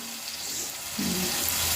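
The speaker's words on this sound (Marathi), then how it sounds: "थोडंसं पाणी घालूया" Water is poured into a pan of cooking vegetable curry with paneer, a brief soft splash and gurgle over a faint background sizzle, quiet and close.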